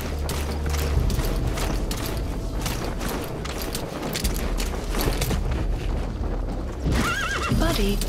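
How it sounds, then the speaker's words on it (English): A horse whinnies and its hooves clip-clop steadily in Metal Gear Solid 5: The Phantom Pain, loud and close with some mechanical creaking and a brief game voice mixed in. "Need my horse."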